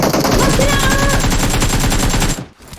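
Rapid automatic gunfire from an UMP in a battle royale game, a loud, close stream of evenly spaced shots that cuts off abruptly near the end, with faint voices underneath.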